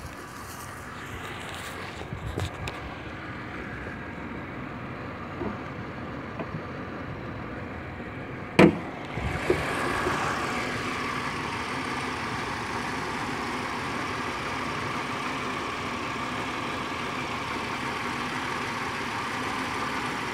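A 2001 Buick Century Custom engine idling smoothly and evenly, a low steady hum that runs throughout, broken only by a brief sharp knock partway through, with no talking.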